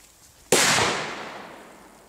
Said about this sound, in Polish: I teraz zobaczymy, czy petardy Doom Boom Middle wybuchają w wodzie.